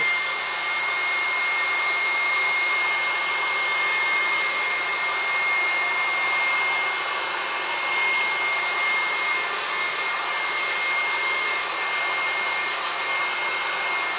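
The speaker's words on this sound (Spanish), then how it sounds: "Voy a secarla con el secador para que veáis lo que os va a pasar." Hair dryer blowing on a decoupage piece: a loud, continuous, even whoosh that runs unchanged for the whole fourteen seconds, close by and with no talking over it.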